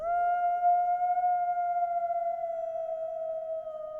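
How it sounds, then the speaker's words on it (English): A reverb-washed howl sample in a dark trap beat, one long steady wailing tone holding for about four seconds and slowly fading, heard alone. "This isn't the raw sample of the howl, but I just put some reverb on it"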